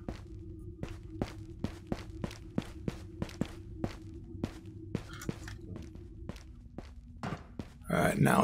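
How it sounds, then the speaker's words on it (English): Enemy footsteps in the game Ghosts of Tabor: a steady run of soft, evenly spaced thuds, moderately close, continuing for several seconds before a louder rustling burst at the end. "Now I hear their footsteps."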